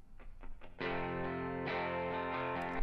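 A strummed acoustic guitar in a folk production, treated with room reverb: a few light plucked notes lead into a full sustained strum that rings steadily, then a fresh strum near the end, no voices.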